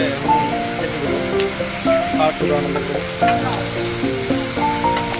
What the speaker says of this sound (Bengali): মাছ ভাজা হয়ে গেছে, এখন মাছটা নামানো হবো।